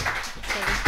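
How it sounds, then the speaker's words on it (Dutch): Applause from a seated audience at a textile museum talk event, a brief burst of clapping lasting about a second and filling the room. "Applaus zeker."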